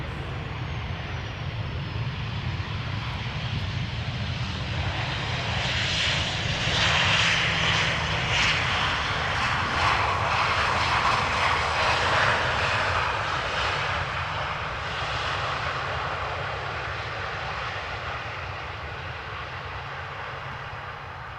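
The jet engines of a Corendon Boeing 737 at Schiphol roar steadily, swelling as the aircraft passes near and then easing off slightly. The sound stays continuous and broadband with no voices throughout.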